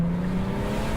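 A BMW diesel with a reprogrammed gearbox pulls hard under throttle, its low engine tone rising steadily, close and loud for a second with no voices.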